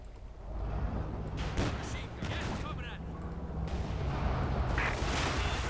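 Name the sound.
mines exploding in Company of Heroes 2 video game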